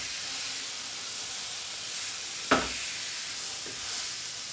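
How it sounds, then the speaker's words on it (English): A tomahawk beef steak sears in a smoking-hot pan with a steady close sizzle and hiss, broken by one sharp spit about halfway through. "Oh, listen to that sear."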